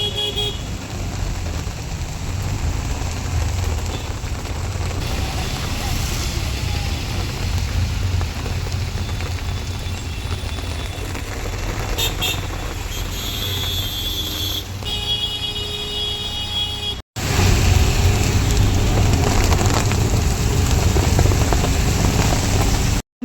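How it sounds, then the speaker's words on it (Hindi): Heavy rain pours in a dense, continuous roar that fills the whole stretch, loud and close, with no one speaking; the downpour briefly cuts out near the end and then returns just as hard. "तो बारिश का साउंड सुनिए खाली आप"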